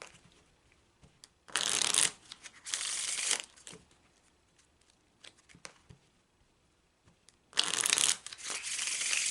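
Playing cards riffle-shuffled in three crisp, rapid bursts, with quiet handling and soft taps of the deck between them.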